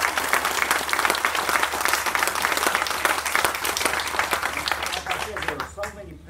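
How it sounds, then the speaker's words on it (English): Audience applause at a library dedication and ribbon-cutting ceremony, a long, full burst of many people clapping that holds steady and then thins out as a voice begins speaking near the end. "I think we need to give all these people another big round of applause."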